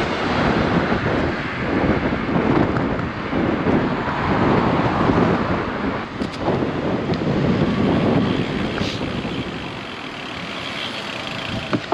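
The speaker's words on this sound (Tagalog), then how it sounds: "sobrang lakas ng hangin" Strong wind roars steadily across the microphone during an autumn gravel bike ride, a loud continuous buffeting rumble that fills the whole stretch with gusty surges and no talk.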